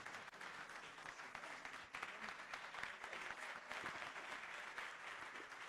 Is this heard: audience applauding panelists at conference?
yes